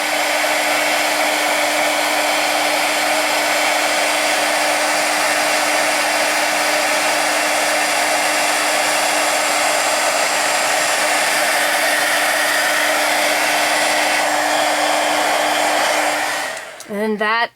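A heat gun melts embossing powder on rubber-stamped paper, giving a steady, loud blowing hum with a faint motor whine that holds for about seventeen seconds before ending in a brief shuffle, with no talking.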